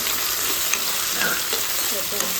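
Potatoes frying crisp in a hot pan for sabudana khichdi, a loud continuous sizzle with scraping stirs running throughout the short stretch, no talking.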